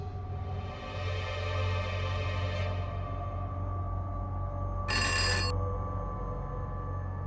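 A telephone rings in a household drama scene, a bright electronic bell-like ringtone in repeated bursts over a background of sustained music.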